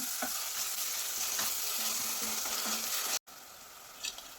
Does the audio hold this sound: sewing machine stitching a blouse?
no